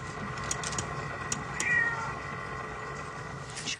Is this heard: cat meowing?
yes